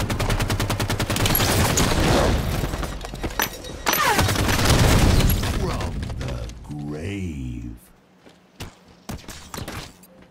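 Rifle gunfire in a Halo match, rapid bursts of shots crowding the first several seconds alongside voices, then thinning into scattered isolated reports and mechanical clicks.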